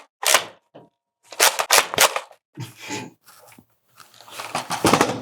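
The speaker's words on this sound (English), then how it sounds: "Slam fire now with bonus ricochet action." An X-Shot Fury-X Pro toy blaster is slam-fired, firing darts in a quick series of sharp, close cracks that come in clusters with short pauses between them.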